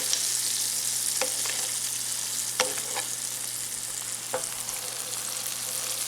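Bison burgers fry in butter in a pan, a soft, even sizzle with a few light clicks and taps of a utensil against the pan, fairly quiet and without any talk.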